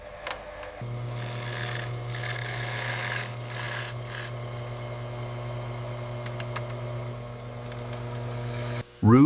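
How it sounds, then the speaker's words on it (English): A polishing machine applies rouge to a gold FIFA World Cup trophy, giving a steady motor hum with a soft, continuous rubbing rasp over it. Small bumps and scrapes break in now and then, and the sound cuts off abruptly near the end. "Rouge and gold, the oldest polishing combination in human history, and still the finest."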